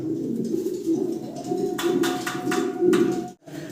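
Fancy pigeons coo in soft, repeated throaty rumbles close by, with a few faint sharper clicks and flutters around them.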